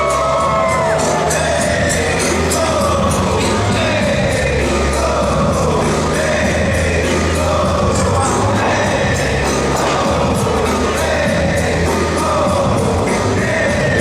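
A crowd at a WPW professional wrestling tag team event cheers, whoops and shouts loudly and continuously, with excited voices overlapping throughout.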